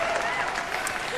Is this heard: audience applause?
yes